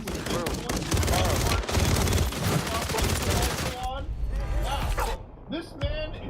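Rapid video game gunfire crackles in dense bursts, loud and close, with a person talking over the shooting before it thins out near the end.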